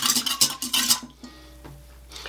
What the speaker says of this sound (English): I'm just going to whisk this together here so I just get the yeast dissolved